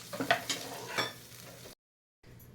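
Pithla batter mixed with water in a pot is stirred with a spoon, giving a few scraping strokes and soft sloshing, close and quiet, then a brief silence before faint stirring resumes.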